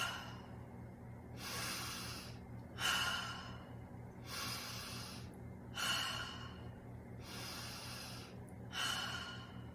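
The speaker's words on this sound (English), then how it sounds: "bring it up under the chin and do some deep breathing." Slow deep breathing, in through the nose and out through the mouth, during a guided relaxation. Six long, airy exhales come at a steady pace, close and soft, with quiet pauses between them.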